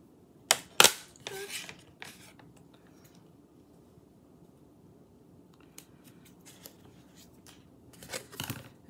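A few crisp snips of scissors cutting paper, a quick burst near the start and another cluster at the end, with quiet rustling between.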